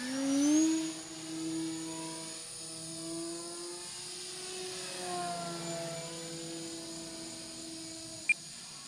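A Night Timber X RC airplane's electric motor whines in flight, its pitch rising and falling smoothly as the plane passes and maneuvers, moderately loud and then fading, with a brief click near the end.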